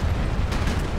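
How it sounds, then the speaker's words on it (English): A brief explosion in the Splinter Cell Conviction video game gives a loud, dense burst of low rumble and crackle lasting about a second. "Ooh, that'd be an awesome explosion."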